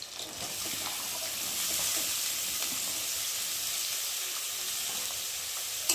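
Cut potatoes drop into hot oil with onion and chopped green chili, giving a strong, even sizzle that continues for several seconds with no voices.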